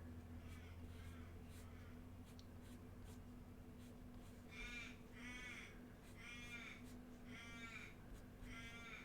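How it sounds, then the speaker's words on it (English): Several crows caw outdoors in repeated bursts of harsh calls, moderately distant and fairly faint over a steady low background hum. "There's a whole heap of crows outside."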